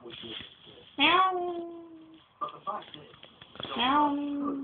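A voice imitates a cat, giving a few drawn-out meows with short pauses between them, close and clear with no other sound.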